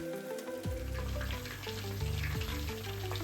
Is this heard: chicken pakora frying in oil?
yes